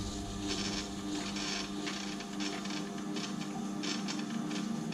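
A chisel being sharpened gives a steady, close abrasive rasping with rhythmic strokes that swell and ease in brightness as the bevel is moved across the stone, with no talk.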